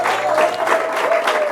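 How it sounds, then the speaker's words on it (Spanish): A church congregation claps during a Spanish-language sermon, a short, dense burst of crowd applause at close, full volume with a faint steady tone running through it. "Dele un aplauso al Señor"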